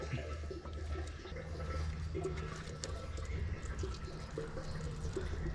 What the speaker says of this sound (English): Let that oil drain out.